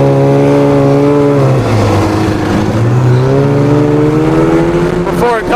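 A Polaris snowmobile engine, an old barn find that may need carburetor work or a rebuild, revs loudly and close, its pitch dropping and rising again before a sharp final rev.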